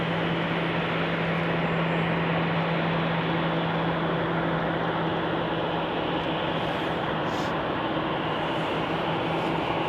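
A Boeing 737-800 airliner at Salt Lake City airport produces a steady, broad jet engine roar with a low hum, continuous and fairly distant throughout.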